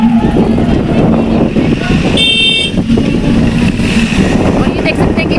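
Motorcycles and cars idle and move at a crowded village gathering, a busy mix of engine drone with a short horn toot midway, people talking throughout.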